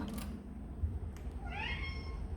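A cat meows once on a hot veranda in midsummer, a short rising cry close by and fairly quiet over low background rumble.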